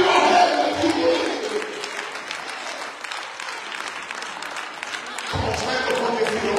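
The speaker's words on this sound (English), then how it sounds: "Now clap your hands if you believe." A church congregation at a Sunday worship service claps and cheers together, a loud wash of applause with voices mixed in that eases, then swells again near the end.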